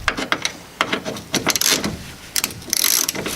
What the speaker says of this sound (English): Now this front bolt I can tighten up